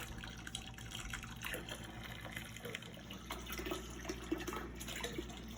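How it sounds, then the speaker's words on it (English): Beer wort running through a siphon hose from a kettle down into a fermenter during homebrewing, a steady trickling, dripping flow of liquid heard close, with a brief spoken phrase near the end. "I'm gonna siphon off my wort into it."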